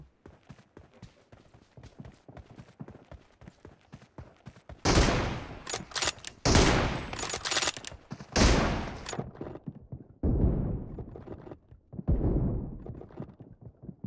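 Rapid gunfire in the mobile battle game BGMI, light clicks and taps at first, then several loud, dense bursts of shots that stop and resume, heard alone.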